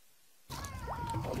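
A trapped kitten meows suddenly after a quiet moment, one drawn-out, wavering cry with a second shorter call, close and fairly loud over faint background noise.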